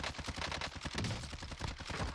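Rapid automatic gunfire in the video game Warzone, a dense fast burst of shots with no pauses, moderately loud and alone.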